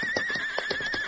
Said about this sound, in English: Another horse whinnied from behind big boulders somewhere ahead